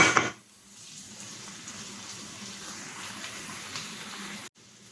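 Onions and peppers frying in a pan, a soft steady sizzle after a louder opening clatter, heard close with no voices and cutting off abruptly just before the end.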